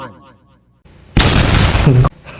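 Artillery from the Vonnie Artilleries mod for Rusted Warfare fires and explodes. After a quiet stretch with a voice, a loud, sustained blast bursts in for about a second and a second burst cuts in at the end.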